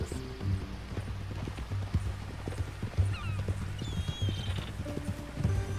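Horse hooves clip-clop at a walking pace in Red Dead Redemption 2, a steady series of hollow knocks at moderate distance. A brief whinny is heard, with faint background ambience.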